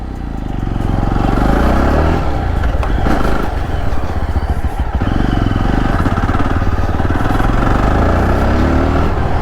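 A Yezdi Roadster motorcycle engine revs loudly and steadily while riding, close-up with rough mechanical rattle and wind buffeting throughout.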